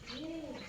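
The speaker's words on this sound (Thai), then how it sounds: "นก" A single soft dove coo heard outdoors, a brief smooth rising-and-falling call that is quiet and slightly distant.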